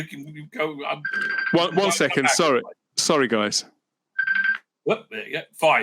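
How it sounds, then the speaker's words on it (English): A phone rings in short electronic tones, partly under someone talking and in a gap between his words. "That's my phone ring."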